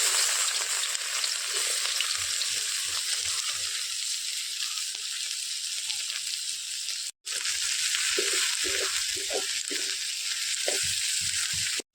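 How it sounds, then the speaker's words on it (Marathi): Onions fry in oil in a kadai with a steady, loud sizzle, while soft stirring scrapes and clinks break through now and then. No one speaks. "कढाई ठेवल्यावर त्याच्यात घालतोय तेल पूर्ण टाकतोय कांदे"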